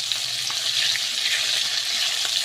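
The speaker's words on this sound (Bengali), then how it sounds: "মাছ ভাজা হয়ে গেছে, তুলে নেব" Pomfret fish frying in a pan, a steady hissing sizzle of hot oil heard close and unbroken, with faint bubbling texture and no voices.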